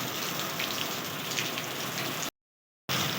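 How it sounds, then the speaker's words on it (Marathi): Steady rain patters down on a house's concrete slab roof, a dense continuous hiss of drops that cuts out briefly near the end and then resumes. "आता पाऊस वरनं पाडा लागला"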